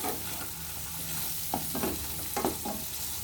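Bitter gourd stir-fries in a pan with a steady sizzle, and a spatula scrapes and knocks a few times midway, with no voices.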